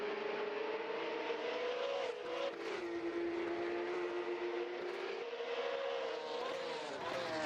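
Porsche 911 race car engine in Assetto Corsa at Monaco, a sustained droning engine note that drops as the car shifts or brakes, then holds and climbs again, loud and continuous with no talk.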